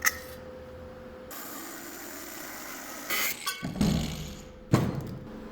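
A ratchet wrench unbolting a part from a boat trailer being converted into a dump trailer, heard as a few close bursts of clicking near the end amid steady shop background noise.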